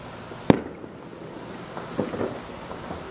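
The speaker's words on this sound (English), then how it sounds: "watching the fireworks." Fireworks set off on a ridge above homes in St. George on July 4th, heard from a back porch: one sharp distant boom followed by a faint crackling burst a moment later, with no talking.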